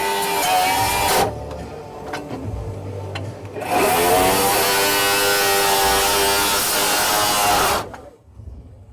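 A brazed carbide saw blade rips through wood with screws in it, its loud, harsh whine coming in two long cuts and then winding down to silence.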